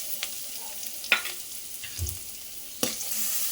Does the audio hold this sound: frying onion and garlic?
yes